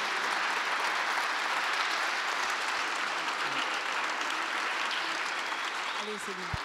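Sustained applause fills the room at a Radio France back-to-school press conference, an even, continuous wash of many hands clapping, with a faint voice surfacing near the end.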